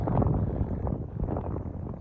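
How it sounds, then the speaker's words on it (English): Wind buffets the microphone in low, rumbling gusts that swell and ease, loud and continuous with no voices. "Get some good wind gusts every once in a while."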